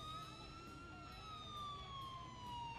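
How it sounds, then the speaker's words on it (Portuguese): A faint, distant ambulance siren in GTA 4 wails in a long slow glide, its pitch drifting gradually downward over a low rumbling engine background. "Tá com a sirene ligada, deve estar com alguma ocorrência"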